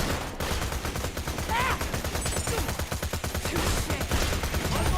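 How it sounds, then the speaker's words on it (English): Dense chaotic gunfire and explosive bursts from a Borderlands 2 firefight, a grenade thrown by an enemy amid the shooting, loud and continuous with voices shouting over the battle. "Oh, she threw a grenade!"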